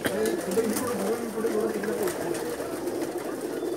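Soft, steady cooing from a loft of special Pakistani pigeons runs throughout, low and somewhat muffled under a constant hum of background noise.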